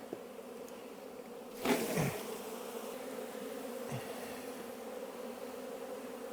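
Honeybees buzz around an opened hive during a mite inspection, a steady faint hum with one insect droning close past at a moment.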